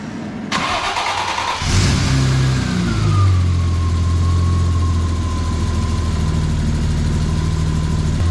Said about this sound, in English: the exhaust might not be sounding that great right now